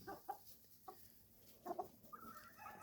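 Chickens clucking near a farm barn, a few quiet, close, irregular clucks and short throaty calls spread across a few seconds against soft background noise.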